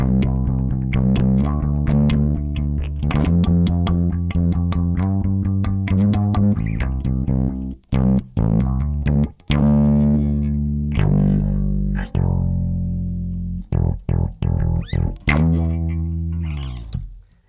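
A Boss SYB-3 bass synthesizer pedal tone sweeps through its envelope filter, notes played in a steady run with short breaks, the filter movement subtle and smooth.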